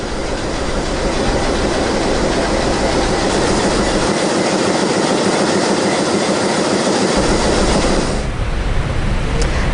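A train runs along a coastal railway line in Sri Lanka, giving a loud, continuous rumble and rattle of wheels on track that fades near the end.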